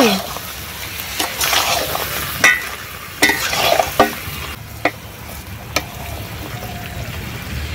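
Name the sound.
frying and stirring chicken curry meat in a pan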